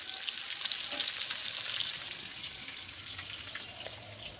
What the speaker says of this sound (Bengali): তো এই যে দেখো মাছ ভাজতে দিয়ে দিয়েছি,